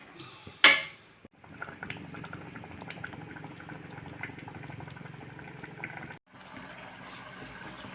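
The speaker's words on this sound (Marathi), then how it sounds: "उकळी आल्यानंतर आपण आता गॅस बारीक करून परत झाकून ठेवणार आहोत" A covered pot of food at a rolling boil on a low gas flame bubbles steadily and softly in a home kitchen, with a sharp clink near the start and a brief break near the end.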